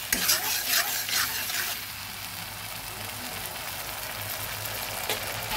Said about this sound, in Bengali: দিয়ে দিচ্ছি পেস্ট করা টমেটো। সব কিছু একসঙ্গে ভালোভাবে ভেজে নিচ্ছি।